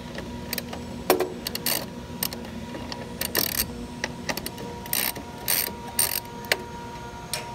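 A Roll-Rite electric tarp system runs on bypass, giving a mechanical rattling and ratcheting of gears and rollers with irregular clicks over a low steady motor hum, moderately close with no talking.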